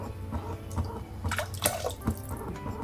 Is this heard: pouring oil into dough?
yes